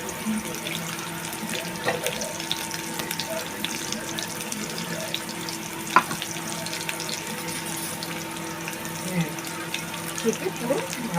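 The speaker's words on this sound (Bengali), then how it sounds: "এটাকে আমি একটু জল দিয়ে এটাকে ছেঁকে নিচ্ছি" Ground mustard paste strained with water for a hilsa fish dish, heard as a steady trickle and sink-like splashing with faint clinks, up close and continuous, with some soft background noise.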